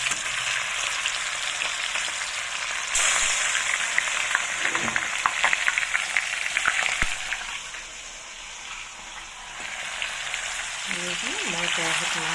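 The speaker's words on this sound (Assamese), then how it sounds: "কেৰাহীখনত পূৰা তেল গৰম হ'বলৈ দিছোঁ। দি মই এপিচ এপিচকৈ এতিয়া মাছখিনি ফ্ৰাই কৰি ল'ম।" Fish pieces crackle in hot oil in a wok, a close, loud sizzle that swells as the pieces go in one by one, then eases; a voice speaks briefly near the end.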